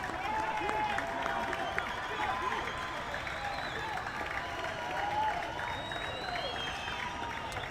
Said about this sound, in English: A bit of a cheer from the Sri Lankan fans.